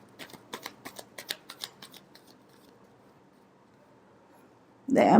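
Tarot cards are shuffled by hand in a quick run of crisp, riffling snaps lasting about two seconds. A quiet pause follows, then a louder rustle and thump right at the end.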